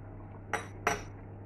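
Carrots and pork being mashed in a pot, two sharp metallic clinks of the utensil against the pot, close and distinct over a quiet background.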